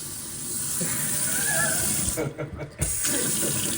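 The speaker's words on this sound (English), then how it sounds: "Turn the tap on? Yeah, We're testing it." Water runs steadily from a newly installed kitchen tap into a sink, a continuous broadband rush that briefly dips and resumes, with faint voices in the background.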